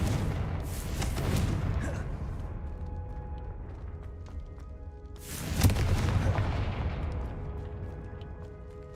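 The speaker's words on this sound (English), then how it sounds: "Confringo." Two heavy booming explosions from the Confringo spell in the video game Hogwarts Legacy, one at the start and one midway, each with a rumbling decay, and faint voices beneath.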